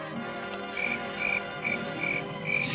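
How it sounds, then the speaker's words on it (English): Faint croaking chirps repeat in a steady rhythm, about five short pulses, over a background of old film soundtrack hiss and hum, with no talking. "Shut your cricket sound effect"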